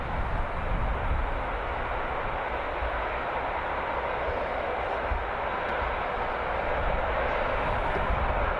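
A Ryanair airliner from Girona arriving at Birmingham Airport, heard as a continuous, loud, broadband jet roar that holds steady from start to finish.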